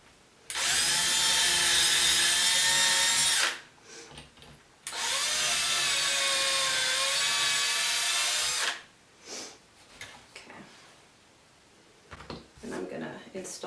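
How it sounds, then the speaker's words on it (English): Two long bursts of a power drill whining at high speed while pre-drilling pilot holes in wood, each about three seconds, separated by a brief pause, followed by quieter handling noises. "I'm just going to pre-drill a couple holes here"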